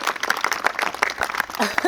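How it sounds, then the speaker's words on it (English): Wedding guests give a short burst of scattered clapping, fairly light and uneven, with voices talking over it. "Let's give them a round of applause"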